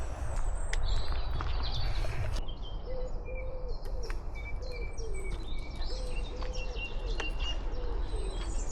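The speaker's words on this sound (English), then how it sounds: "Listen to the birds." Birds chirp and coo outdoors on a dog walk. Scattered calls and tweets of mixed pitch sound at a moderate distance over a low, steady background rumble, with footsteps earlier on.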